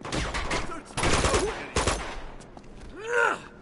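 Rapid bursts of gunfire in the Uncharted 2: Among Thieves video game, several loud clustered volleys of shots with grunts and groans from game characters mixed in.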